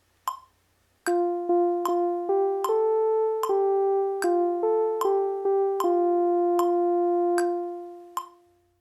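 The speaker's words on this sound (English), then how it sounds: "we can use a metronome that is set to 76" Steady, evenly spaced metronome clicks tick at 76 beats per minute while a melody of clear sustained tones plays along, ending with a final click.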